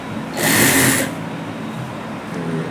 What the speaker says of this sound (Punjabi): ਸੈਂਟਰ ਨੂੰ ਆਪਾਂ ਇੱਥੋਂ ਫੜਨਾ ਤੇ ਸਲਾਈ ਮਾਰ ਦੇ ਤੁਹਾਨੂੰ ਲਾ ਕੇ ਦਿਖਾਣਾ